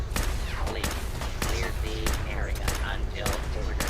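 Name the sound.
shotgun firing at a robot in video game Fallout 4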